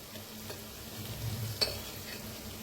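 Chopped tomato and onion frying in a pan, a soft continuous sizzle with gentle stirring scrapes and one sharper clink of the spoon against the pan, faint and close.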